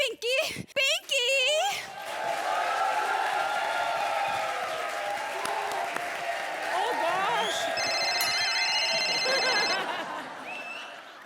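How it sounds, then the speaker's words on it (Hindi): A telephone rings with a steady electronic tone partway through a comedy stage show, rising over continuous audience applause, crowd noise and people talking. "एक तो काम पे आने का सीधा फोन बजना शुरू हो जाता है।"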